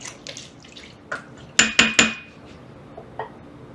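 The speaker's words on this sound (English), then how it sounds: "Stir this in a little bit." A spoon clanks and scrapes against a pot while stirring pumpkin chicken chili, giving a few sharp metallic knocks, three loud ones close together, amid soft wet stirring sounds.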